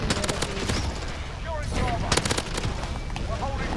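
Gunfire in a first-person shooter, several sharp shot bursts in quick clusters with an echoing tail, mixed with game effects and some overlapping voice.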